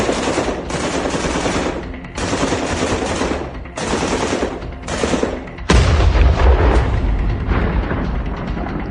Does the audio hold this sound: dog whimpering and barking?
no